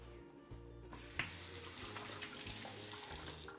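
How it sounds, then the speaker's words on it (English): Running tap water splashes steadily over hands being washed at a sink, a continuous close hiss that starts after a brief quieter moment and carries on alone with no talk. "Let's wash our hands."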